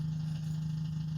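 A Subaru 360 two-stroke van engine, cold and running rough on one cylinder with too much choke, gives a steady low, faint buzzing hum throughout.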